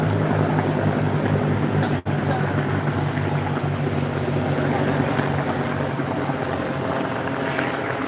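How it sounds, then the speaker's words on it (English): Attack helicopters pass overhead during an outdoor herb walk, giving a continuous low rotor rumble and droning engine noise that stays steady throughout. "Those are attack helicopters."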